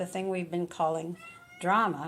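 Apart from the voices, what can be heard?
domestic cat meowing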